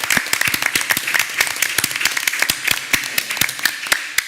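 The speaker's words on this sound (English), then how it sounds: "Let's give them a round of applause." An audience at a school board meeting applauds, a steady run of sharp, distinct claps from a modest crowd, fairly close and continuing without pause for several seconds.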